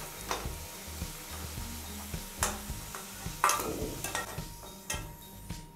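Fried potatoes are lifted out of hot oil, a soft sizzle running under a series of scraping, clinking utensil strokes against the pan, several sharper taps punctuating it.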